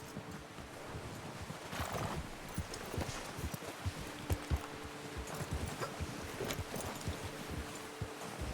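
Horse hooves clip-clop at a walk in Red Dead Redemption 2, a soft, rhythmic clopping over a quiet outdoor ambience.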